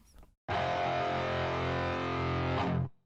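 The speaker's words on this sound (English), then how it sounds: "A ladder filter." A single sustained electric guitar note rings out through a ladder filter effect, heavily filtered and distorted into a thick buzzy tone, then cuts off abruptly.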